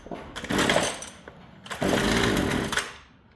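A two-stroke string trimmer engine with its choke fully closed fires and runs in two loud, buzzing bursts with a brief dip between them, then cuts out near the end, close to the microphone with no talking.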